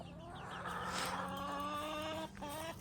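A flock of chickens clucks continuously in a farmyard, with drawn-out calls and overlapping chatter, moderately close and steady, no voices.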